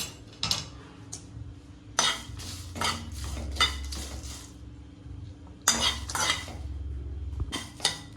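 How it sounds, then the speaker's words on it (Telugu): Dry red chillies tossed in a pan without oil, giving repeated clinks and scrapes of a utensil against the metal pan in bursts, fairly close and moderately loud, with brief pauses between stirring strokes. "ఇప్పుడు ఎండుమిర్చి ఫ్రై చేసుకుందాం, ఆయిల్ లేకోకుండానండి"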